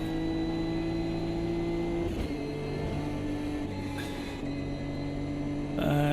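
A racing car engine in the video game Automobilista 2 drones steadily at high revs, with gear shifts changing the pitch every couple of seconds, loud and continuous with no talking.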